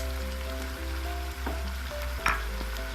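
Spices sizzling in hot oil in a pan while chicken karahi cooks, a steady close frying hiss with a few brief stirring clatters and pops, no talk.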